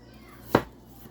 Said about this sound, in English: cut it in half so it's more bite-sized pieces